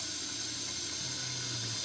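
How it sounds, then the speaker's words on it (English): Water runs through a wort chiller cooling freshly boiled brown ale wort, a steady, even hiss and trickle at moderate volume with no voices. "now I'm just cooling the wort down with the wort chiller"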